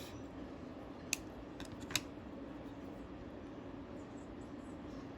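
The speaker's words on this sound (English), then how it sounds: "Let's cut this little red one off." Scissors cutting a small red paper piece, two or three quick sharp snips close by, followed by a low steady room hum with no talking.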